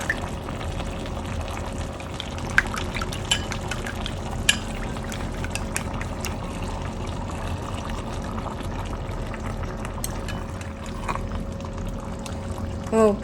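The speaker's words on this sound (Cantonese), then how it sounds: "最後放返個雞蛋芡。" Egg sauce is poured into a seafood stew of egg tofu, giving a soft, steady liquid wash with faint clinks and no speech over it.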